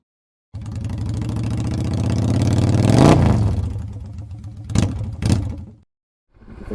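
A 2022 Moto Morini X-Cape 649 motorcycle engine revs up loud and close, climbing to a peak and falling away, then gives two sharp blips before it cuts off. It catches once more right at the end.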